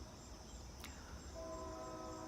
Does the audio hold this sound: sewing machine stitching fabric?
no